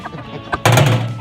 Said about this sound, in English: What are you doing, chicken?